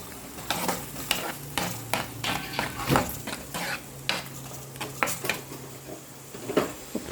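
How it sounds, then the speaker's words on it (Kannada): Masala frying in a pan for mackerel tava fry, stirred with a utensil that clinks and scrapes in an uneven rhythm over a low sizzle, close by, with no voices. "ಸ್ವಲ್ಪ ಮಸಾಲೆಯನ್ನು ಹಾಕಿದ್ದೀನಿ. ಇದು ಕೂಡ ಫ್ರೈ ಆಗಬೇಕು."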